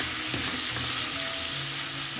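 Okra sizzles and fries in a hot pan with salt and turmeric, a steady close hiss with occasional soft stirring scrapes, no voices.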